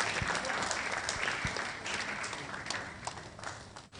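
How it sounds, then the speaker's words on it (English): Audience at a renewable energy challenge launch for senior high schools gives a round of applause, a dense steady wash of clapping heard from a distance, easing slightly near the end. "Shall we please do that with a round of applause?"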